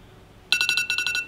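A timer alarm rings in a quick burst of about ten sharp electronic beeps, loud and close, starting abruptly after a quiet moment.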